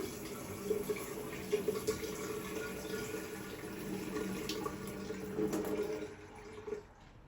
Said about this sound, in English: Time to turn the water back on and flush out any bits of wire wool.